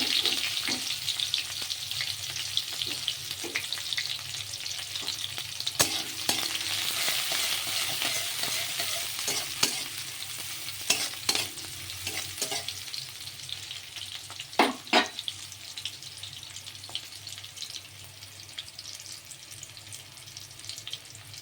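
Chopped onion, garlic and green chili fry with cumin seeds in a pan, a soft, steady sizzle with intermittent sharp clicks and spatula scrapes, fairly quiet and heard alone without talking.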